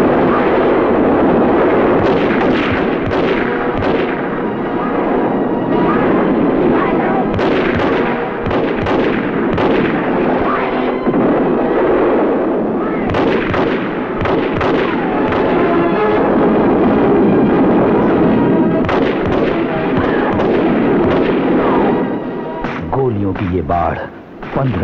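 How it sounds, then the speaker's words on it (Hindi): Soldiers fire their guns indiscriminately, producing loud, dense bursts of repeated shots that crackle and boom without pause, with voices heard faintly underneath. "उसके हुक्म पर सैनिकों ने अंधाधुंध गोलियां बरसानी शुरू कर दी"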